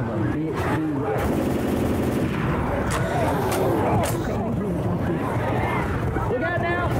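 Rapid gunfire in Left 4 Dead 2 co-op play, dense bursts of shots running continuously under players' shouting and chatter amid a busy game soundscape.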